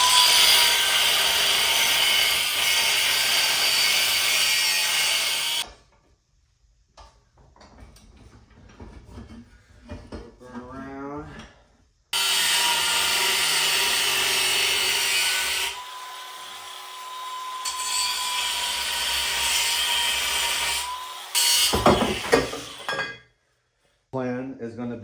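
An exhaust pipe on a V6 car being cut to length with a power tool: two long, loud, harsh bursts of cutting noise, separated by quieter stretches of handling and clatter, with a final brief burst near the end.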